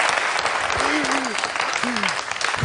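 A studio audience on a Georgian television show gives thick, steady applause, loud and continuous, while a voice speaks briefly over the clapping.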